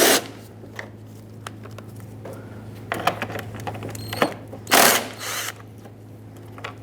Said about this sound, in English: 10mm socket, remove both.